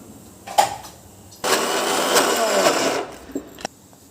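A mixer grinder grinding maize for maize vadas whirs loudly for about a second and a half, then stops, with a few short clicks and knocks before and after.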